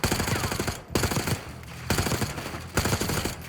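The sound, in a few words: gunfire in Black Ops 6 video game cutscene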